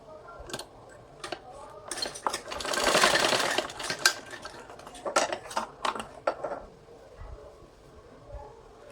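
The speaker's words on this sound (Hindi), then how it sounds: "यहाँ पे भी एक सिलाई लगा देती हूँ।" A sewing machine stitches salwar fabric in close, intermittent bursts of rapid needle clatter, separated by short pauses and light handling sounds.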